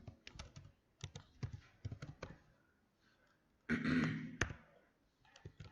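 Fingers type on a computer keyboard in short bursts of clicky keystrokes, close and fairly quiet. A brief rustling noise breaks in partway through, then a few more taps follow.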